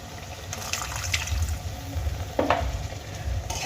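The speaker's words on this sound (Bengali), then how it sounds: "এবার আমি এর মধ্যে দিয়ে দেব সামান্য জল" A little water poured into a fish curry pan with mustard paste, hissing and bubbling briefly in the hot oil alongside stirring sounds.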